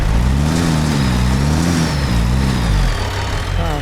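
Peterbilt 389 truck engine in American Truck Simulator revving hard with a strained, labored drone, pitch rising and wavering before dropping off near the end, loud and close with no talk.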